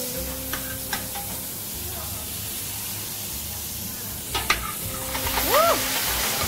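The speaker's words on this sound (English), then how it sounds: "I'm sauteing it with onion and olive oil" Jerusalem artichoke sauteing with onion and olive oil in a pan, a soft continuous sizzle with occasional clinks and stirring scrapes, and a few brief higher tones over the hiss near the end.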